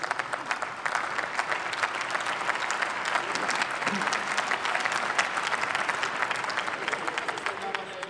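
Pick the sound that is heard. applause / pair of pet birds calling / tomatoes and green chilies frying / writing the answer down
applause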